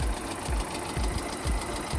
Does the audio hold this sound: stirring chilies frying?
no